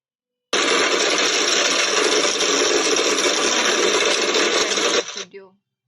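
Small drill boring through a PCB board, a steady loud whine with buzzing rattle running nonstop for about four and a half seconds before spinning down.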